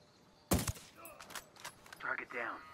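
A single sharp shot from a squad sync shot in Ghost Recon Wildlands, followed by a brief scattered rattle of gunfire, fairly quiet overall, with radio-style speech afterward.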